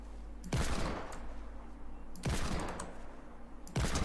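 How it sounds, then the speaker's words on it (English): Hand cannon fired in a first-person shooter video game, three loud booming shots spaced about 1.7 seconds apart, each with a sharp crack and a rumbling decay, no talk. "I'm really trying to finish this with just the revolver, or just the hand cannon."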